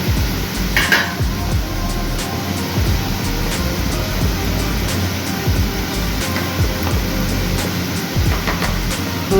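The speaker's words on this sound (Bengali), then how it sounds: "দেখো তাড়াতাড়ি করে নাড়ছি কেটে যাওয়ার ভয়েতে" Katla fish curry in a pan being stirred quickly right after yogurt goes in, a steady scraping and clinking of a utensil against the pan under a constant background hum, with no talking.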